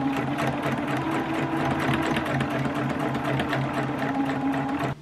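A sewing machine runs steadily at high speed, stitching strap loops onto a tailored women's trench coat, its even mechanical whir continuing close up and alone until it stops at the very end.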